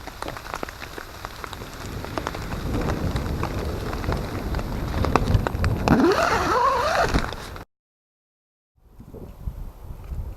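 Steady patter of rain drumming on a tarp, close and dense, with a wavering whine near the end before it cuts to near silence, then faint rain resumes.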